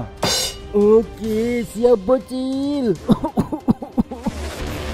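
A voice speaks briefly, then breaks into a quick series of raspy coughs, close and fairly loud.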